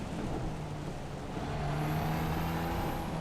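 A race car's engine in the Assetto Corsa Evo racing game drones steadily and loudly, with a thin high whine rising above it and the pitch building slightly partway through.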